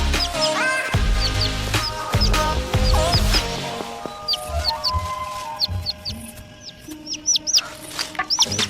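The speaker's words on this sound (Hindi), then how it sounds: "ओह, एक नन्हा सा पंछी।" Small bird chirping in short, high repeated tweets, sparse at first and then more frequent, over a busy background of music and other sounds, with no talking.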